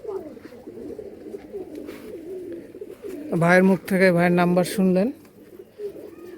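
Pigeons of Rajshahi local Giribaj and Pakistani breeds coo in a close, loud burst of three rhythmic calls, preceded and followed by someone talking.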